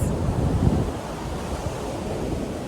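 Rough ocean waves on a shore roll in a steady heavy wash, loud and close, with strong wind buffeting the microphone throughout.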